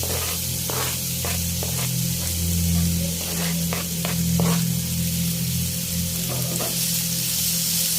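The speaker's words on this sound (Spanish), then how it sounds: "Vamos a freír muy bien hasta que esté bien blandito todo." Bell pepper and jalapeño frying in a pan, a loud continuous hissing sizzle close by with intermittent stirring scrapes and a steady low hum underneath, no talking.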